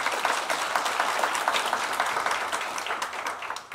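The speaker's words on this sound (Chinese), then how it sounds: "大家鼓掌" A forum audience breaks into applause as a panel speaker is introduced, a steady, even crackle of many hands clapping that carries on for several seconds with no talk.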